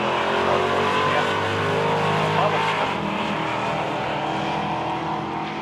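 A Chevelle and a Camaro drag race at a street-style event, with a loud, sustained engine roar that stays close and fades slightly toward the end while a commentator talks over it.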